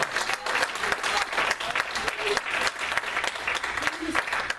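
A church congregation claps for the Lord during a sermon, a steady wall of brisk applause with individual sharp claps standing out and faint voices mixed underneath.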